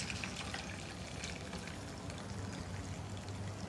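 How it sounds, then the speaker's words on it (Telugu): Boiled onion water being strained through a strainer, a steady continuous pouring and trickling of liquid heard close up for the whole stretch, with no talk. "సో బాగా మరిగిపోయాయి, దీన్ని చక్కగా నేను వడగడుతున్నాను."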